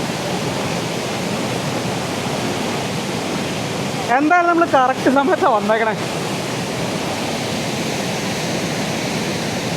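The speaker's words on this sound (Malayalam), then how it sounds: "ആ താഴത്തെ ഷട്ടർ ആയതുകൊണ്ടാണ് അത്രയും ഫോഴ്സിൽ വെള്ളം ഇങ്ങനെ തള്ളി വന്നുകൊണ്ടിരിക്കുന്നത്" Water gushes forcefully out of a dam's lower shutter in a rural Kerala village near Thrissur, a loud, continuous roaring rush that runs throughout, with someone briefly talking over it midway.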